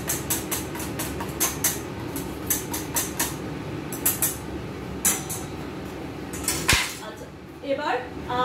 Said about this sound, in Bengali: ডিমটাকে খুব ভালো করে ফেটিয়ে নিতে হবে।